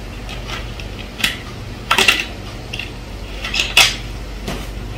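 A spoon stirs a virgin mojito mocktail topped with soda, producing a handful of sharp, scattered clinks against the glass over a quiet background.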